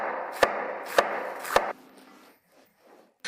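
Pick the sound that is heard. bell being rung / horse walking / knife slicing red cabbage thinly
knife slicing red cabbage thinly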